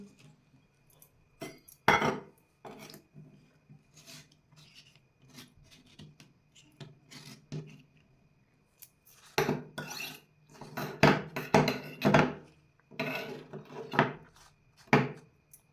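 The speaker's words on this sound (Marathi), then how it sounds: "ही कोरपड अशी मधोमध कट करायची आहे आणि या कोरफडीचा गर आपल्याला काढून घ्यायचा आहे" An aloe vera leaf cut down the middle and its gel scraped out with a utensil, giving intermittent rasping scrapes and knocks, sparse at first, then a denser run of louder scraping strokes near the end.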